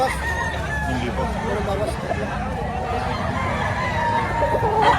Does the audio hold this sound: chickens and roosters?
yes